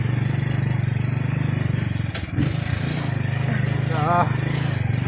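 A motorcycle idles close by on a rural road trip, a steady loud low engine drone with a brief dip midway, and a voice briefly talks over it.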